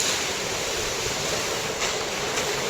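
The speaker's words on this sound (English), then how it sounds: "flooding the tiny diorama into oblivion" Water floods a miniature Thai resort set on a green-screen film stage, a steady, loud, continuous rushing wash like surf, unbroken throughout with no voices.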